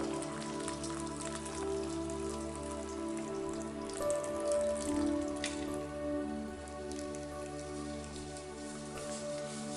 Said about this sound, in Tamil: இப்போ வந்து நம்ம என்ன பண்ணுறோன்னா கஷாயத்தை வடிகட்டுறோம்.